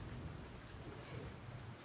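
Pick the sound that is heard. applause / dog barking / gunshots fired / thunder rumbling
thunder rumbling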